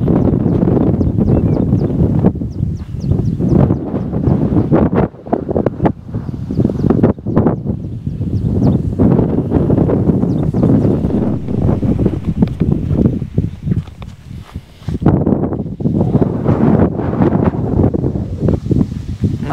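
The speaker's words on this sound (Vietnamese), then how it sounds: "nhưng mà gió to quá" Strong, gusty wind buffets a microphone on top of an 833-metre hilltop, with loud, continuous rumbling and flapping bursts that rise and fall throughout and no talk.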